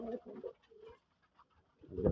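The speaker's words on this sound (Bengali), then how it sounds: "এক জোড়া গড়া কবুতর আছে আমার লটে দেখেন" Soft, low domestic pigeon coos close by on a pigeon farm, a few short rolling calls with pauses between, one louder coo at the end.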